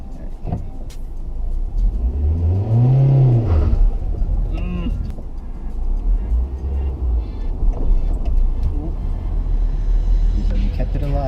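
A manual-transmission car's engine rumbles and revs unevenly as a learner works the clutch. The low drone stays steady throughout, with a rising rev early on, and people talk over it.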